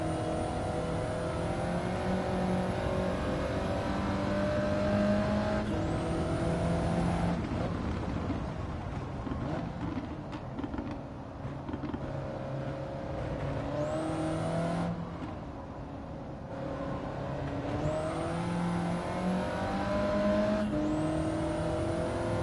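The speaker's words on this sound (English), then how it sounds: "That turbo whistling noise sounds funny. And the crackling of the exhaust." A racing car engine in the video game Gran Turismo 7 whines and surges through gear changes, with a high turbo whistle and crackling exhaust pops, steady and close without talk.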